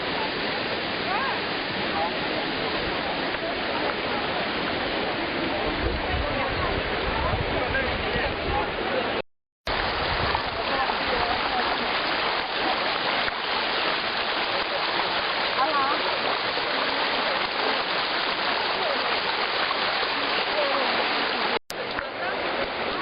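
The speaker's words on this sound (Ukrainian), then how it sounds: "Ось такі білясті тераси. На них вода," Steady, continuous rushing of water spilling and flowing over white travertine terraces and pools at Pamukkale, Turkey, amid snow, loud and close, with two brief dropouts.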